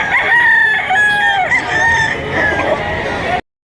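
A rooster crows loudly and close at the Lipa auction market, one long drawn-out call followed by clucking, with no talk over it.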